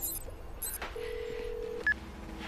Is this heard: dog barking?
no